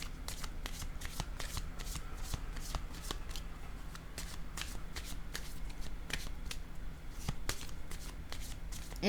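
Tarot cards are shuffled nearby in quick repeated riffles, a continuous papery flutter broken by sharp slaps, with almost no speech.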